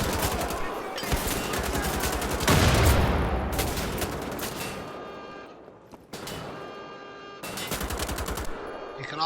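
Automatic gunfire in the Wolfenstein The Old Blood video game, loud rapid bursts of shots in several long strings separated by short gaps.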